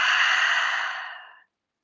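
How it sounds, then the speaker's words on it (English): A single long exhale during a yoga flow, a soft, close breathy sigh that fades out over about a second and a half, followed by silence. "Exhale all the way out."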